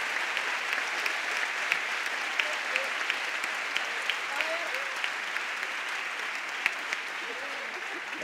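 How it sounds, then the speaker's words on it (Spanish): A crowd applauds steadily at a 20th anniversary gala for a murga carnival group, a dense, even wash of clapping heard from some distance with a few sharper claps standing out. "Fuerte el aplauso para ella."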